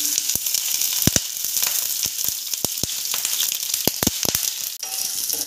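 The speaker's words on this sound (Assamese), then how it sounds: "ইয়াত তেল দিছোঁ, ইয়াত পিঁয়াজ দিছোঁ।" Onions fry in hot oil for an Assamese-style rajma curry, giving a steady loud sizzle throughout with scattered crackles and pops, and no voices.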